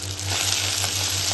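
Onion, garlic, green chilli and curry leaves sizzle in hot oil for mango rice, a loud, continuous close-up frying hiss with light stirring scrapes and a low steady hum underneath.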